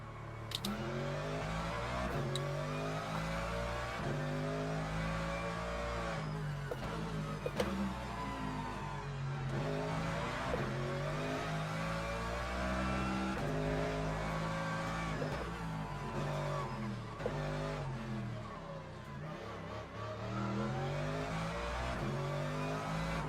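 A race car laps on cold tires in the video game Le Mans Ultimate. The engine note climbs and drops steadily as it repeatedly accelerates and shifts through gears, loud and close throughout.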